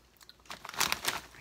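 Ruffles Double Crunch hot wings flavored ridged potato chips crunch in a run of sharp, close bites and chews, getting louder toward the middle, with no talking.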